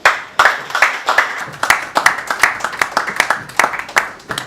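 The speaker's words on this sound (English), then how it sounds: "So Zulfikar, can you please welcome him with a loud clap?" A smaller audience at a London book launch claps to welcome a speaker, with distinct, sharp individual hand claps in an uneven rhythm, close and loud, rising and falling over several seconds.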